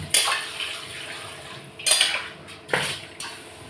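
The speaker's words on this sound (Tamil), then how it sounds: "ஒரு பாத்திரம் வச்சுக்கிறேன்." Metal cookware clanks onto a kitchen stove in three separate sharp knocks, each one fading into a short ring, with faint room noise between them.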